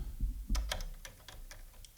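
A series of small metallic clicks and ticks, irregularly spaced, as a drum key turns the tension rods on a floor tom, faint and close.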